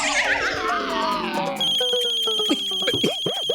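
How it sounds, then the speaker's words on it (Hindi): A synthetic phone ringtone chimes in a repeating electronic melody, starting after a sliding tone and continuing with warbling bursts near the end. "फोन आ रहा है, फोन।"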